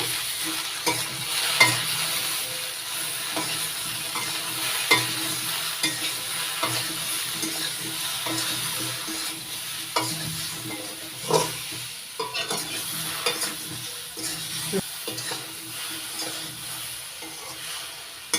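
Jujube fruit being stirred with turmeric and salt in a pan: a soft, steady sizzle broken by repeated spoon scrapes and clacks, moderately close and fairly quiet.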